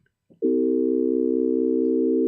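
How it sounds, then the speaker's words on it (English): A synthesized C dominant seventh chord tuned in just intonation starts abruptly after a brief click and holds as a steady, smooth, loud tone with no audible beating. "And now let's listen to the just intonation of that exact same chord."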